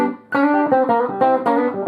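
An electric guitar on its bridge pickup plays through a Keely Princeton-clone amp with a 12-inch speaker, captured on a camera mic: a short run of bright, clean picked notes and chords, close and alone.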